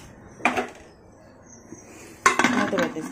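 An empty bowl set down inside a pressure cooker, with two sharp metallic clanks and a short rattle of metal on metal, close and clear, separated by a quiet pause.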